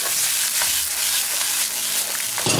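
Eggs frying in plenty of oil in a pan give a loud, steady broadband sizzle that runs without pause, with faint scraping at a few points and no voices.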